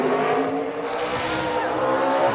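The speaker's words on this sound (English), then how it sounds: "rubber was on fire after he did his burnout" A race car performs a tire burnout at a Phoenix NASCAR event, with a loud, sustained roar of engine and spinning rubber that holds steady without pause.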